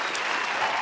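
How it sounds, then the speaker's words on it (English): Audience applause, a steady dense wash of clapping hands sustained at even volume throughout, with no pause or build. "Round of applause for the honest man"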